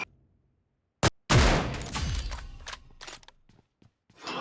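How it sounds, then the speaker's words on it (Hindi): Gunfire in the mobile battle royale game BGMI as a knocked enemy is finished off after a sniper hit: a sharp shot, then a loud close burst of rapid shots with a rumbling tail, and another burst at the end. "इस बंदे को मैं नॉक कर देता हूँ स्नाइपर से नॉक करता हूँ, फिर इसको फिनिश भी कर देता हूँ।"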